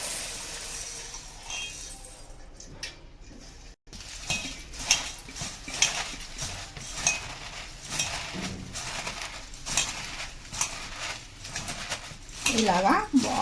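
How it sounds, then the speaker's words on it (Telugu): A puffed rice mixture with fried peanuts is stirred in a bowl, giving repeated scraping and light clinking strokes at a moderate level, partly under talk. "ఇప్పుడు మనము కలపాలంటే ఇలాంటి గిన్నెలు వేసి కలపాలండి."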